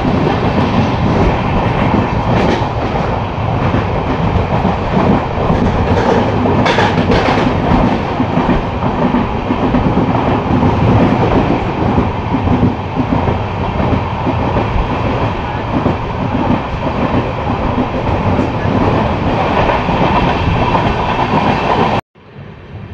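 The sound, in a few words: Kolkata-Sairang Express train running on rails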